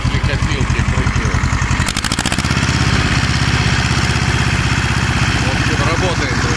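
A hay baler runs steadily in a hayfield, its engine droning loud and close with a rapid mechanical knock, a brief clatter near the two-second mark, then a continuous thrumming throughout.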